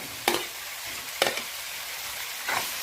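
Tomatoes fry in a pan for a fish curry under a constant close sizzle, broken by three scraping stirs of a spoon at roughly one-second intervals.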